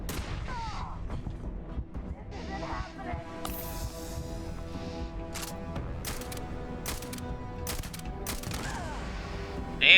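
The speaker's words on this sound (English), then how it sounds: "this guy using some very heavy weapon here" Heavy weapon fire in the video game Starfield, heard as quiet, scattered sharp bursts and crackling shots over a low, busy battle background, with a louder hit at the very end.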